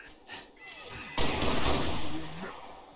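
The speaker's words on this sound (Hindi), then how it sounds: "firing on multiple position" Gunfire rattles in the Halo Reach video game, with scattered shots building into a dense burst of fire from multiple positions, loud and close, then tapering off.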